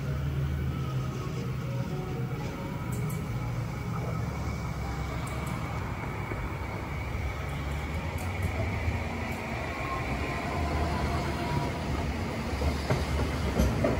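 An Alstom Citadis tram runs on the Sydney light rail Inner West line with a steady low rumble and hum, faint wheel clicks and squeals over the continuous ride.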